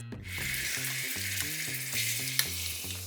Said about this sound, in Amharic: የጋለ መጥበሻ ላይ ትንሽ ዘይት እናደርጋለን።